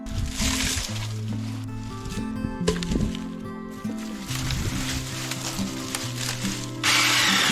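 A mini chainsaw runs continuously close by, cutting brush, its whine rising and dipping as it bites through the material, with no talking.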